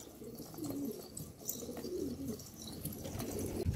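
Domestic pigeons cooing in a loft, several soft throaty coos repeating in low rolling phrases over a steady background hum, fairly close and moderately loud with no talking.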